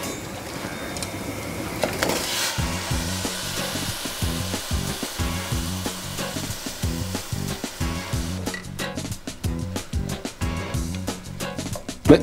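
Saffron risotto rice simmers in broth in a pan, giving a steady bubbling sizzle with soft stirring scrapes and clinks that come in rhythmic bursts. The sound is close and moderately quiet.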